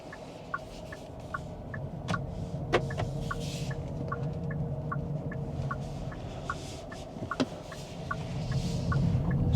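A 2025 Kia EV3 Light Long Range electric car on the road, with a low steady cabin hum and road rumble and a faint regular ticking, like an indicator, plus occasional light knocks.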